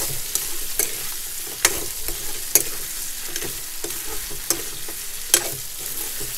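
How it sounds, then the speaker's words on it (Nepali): Meat thawed from frozen fries in a pan in a Nepali village kitchen. A steady, soft sizzle runs throughout, broken by sharp scrapes and knocks of stirring about every second, with no talk. "यसरी एकछिन परि भुट्नेछु मैले"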